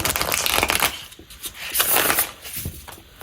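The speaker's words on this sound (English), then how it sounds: "So here's our shuffle test. The shuffle is pretty good." A tarot card deck being shuffled, repeated riffling bursts of crisp card flutter close by with short pauses between them.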